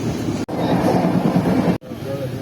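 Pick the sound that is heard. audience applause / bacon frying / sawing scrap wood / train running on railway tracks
train running on railway tracks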